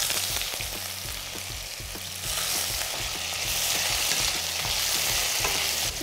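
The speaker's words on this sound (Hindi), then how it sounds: "साथ ही साथ इसमें अब हम मिक्स करने जा रहे हैं आलू के चंक्स।" Potato chunks and onion seeds fry in hot oil, a steady bright sizzle with rhythmic scraping of stirring, close and continuous with no talking.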